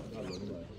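Pigeons at a loft give brief, soft coos close by, blended with a steady background murmur.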